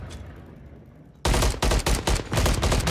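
Video game gunfire: after a quiet stretch, loud rapid bursts of shots erupt, several fusillades in quick succession with brief gaps between them, no talking.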